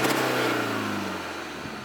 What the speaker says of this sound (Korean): 엑셀을 밟아보겠습니다. 잡소리 나는 것 없이 안정적인 소리 내고 있습니다.